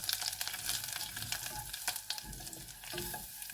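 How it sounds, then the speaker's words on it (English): Spices and herbs frying in melted butter in a pan, a loud close sizzle with crackles and scraping stir strokes throughout, no voices. "So once the butter has melted, I'm going to add the spices"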